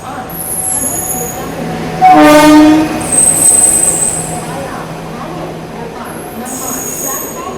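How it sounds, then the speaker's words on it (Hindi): The August Kranti Tejas Rajdhani Express passes with a loud blast of its horn, wheels and wagons rumbling beside the track and high squeals ringing over the steady roar. "ये देखो अब आ रही है अगस्त क्रांति तेजस राजधानी एक्सप्रेस"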